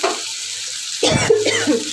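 Bitter gourd and onion hitting hot oil in a pan, a sudden burst of sizzling and crackling frying that swells after a quiet start and keeps hissing steadily up close, with no voices.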